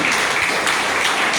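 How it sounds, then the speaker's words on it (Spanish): A church congregation at a Christmas service bursts into steady, dense applause, a loud wash of clapping throughout with no voices. "¿Cuánto de un aplauso a Jesucristo?"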